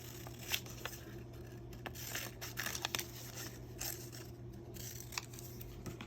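Scissors cut a paper shape out of a lesson sheet in quiet, close, intermittent snips and paper rustles, with no talking.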